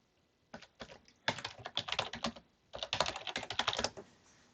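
Rapid bursts of keys struck on a computer keyboard while a random string is entered, two clusters of close, crisp clicks separated by a short pause.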